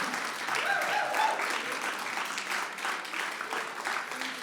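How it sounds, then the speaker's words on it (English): Audience applause for pageant contestants at the Celebration of Nations, moderate clapping that rolls on steadily, with faint voices mixed in. "Give us another round of applause"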